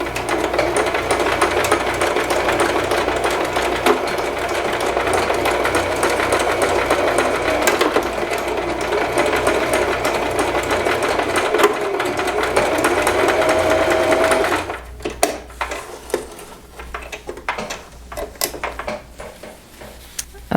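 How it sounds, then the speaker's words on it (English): A sewing machine runs steadily and loudly for a long stretch, stitching back and forth over elastic, then stops and gives way to scattered clicks and handling noises. "we're also gonna use the back stitch in our machine to go back"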